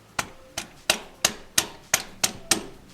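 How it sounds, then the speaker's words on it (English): Socket wrench tapping a plastic shifter turret part into place, eight sharp, evenly spaced knocks at a steady rhythm, close and fairly quiet. "I'm just going to put it on that edge, kind of tap it on the top"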